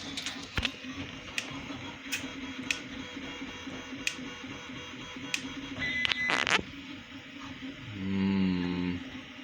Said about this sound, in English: I hear clicking from the 3D printer